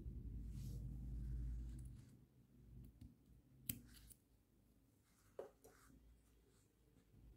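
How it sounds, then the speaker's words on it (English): Small scissors snipping the thread tail off a beaded peyote-stitch earring, a couple of quiet sharp snips with faint handling noise over a low room rumble. "And now let us first cut the tail off very carefully."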